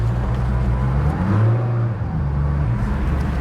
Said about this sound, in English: reversing in an underground car park